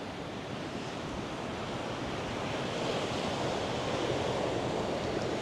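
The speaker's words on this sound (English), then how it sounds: "Y'all hear the wind?" Wind blowing steadily across an ocean bay on a Hawaiian coast, a continuous loud rushing roar buffeting the microphone, mixed with the broad wash of surf, with no talking throughout.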